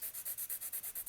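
The point of a red chalk pencil is sanded in quick, even rubbing strokes, about nine soft rasps in about a second, close and quiet with no talking.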